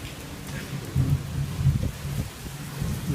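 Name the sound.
heavy rain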